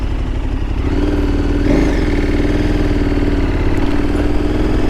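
A motorcycle engine runs under light, gentle throttle on a ride, a loud, close, steady mechanical drone with a faint swell partway through and no talking.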